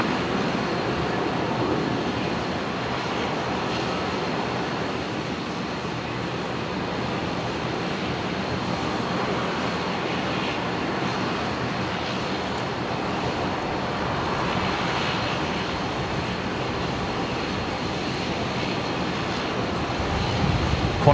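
A Qantas Airbus A330 at Brisbane airport, heard as a steady, broad jet engine roar that holds at constant loudness throughout, with no speech.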